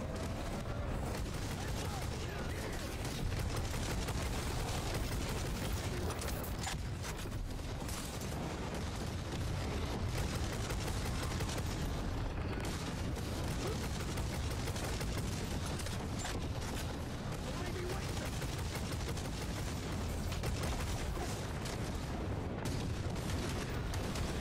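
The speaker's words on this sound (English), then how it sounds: "God, this shotgun's pretty mean. The shotgun is extremely good." Shotgun blasts in Necromunda: Hired Gun, heavy booming reports repeating over a constant roar of battle noise, dense and loud throughout, with a voice talking now and then.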